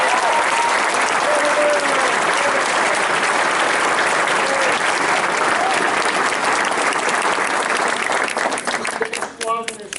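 Loud, sustained applause from a large crowd at a US Air Force Academy graduation and commissioning ceremony, honoring squadron commanders, dense clapping for several seconds before thinning out near the end, with voices mixed in.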